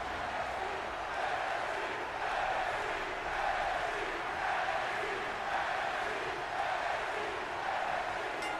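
Distant, steady arena crowd noise with rising cheers and chanting as wrestlers enter in the WWE 2K20 video game, set before a Colorado Springs crowd, a continuous low-level roar.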